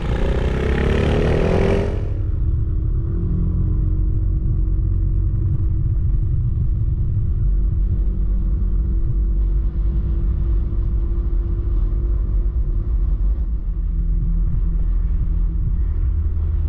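Car interior on a country road drive through Hesse: a brief loud burst at the start gives way to a steady low engine and tyre rumble, constant and close, without speech.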